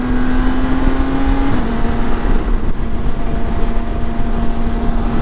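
A 2021 BMW K 1600 Grand America motorcycle shifts into second with its quick shifter, a steady engine whine that drops in pitch at the gear change amid loud wind rush, with no talking.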